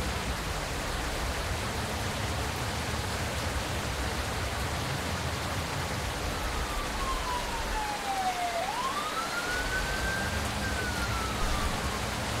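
Jumbo ambulance siren in the Route 8 night-driving horror game, a wailing tone sweeping down then rising again, sounding over a steady broadband rain-like hiss.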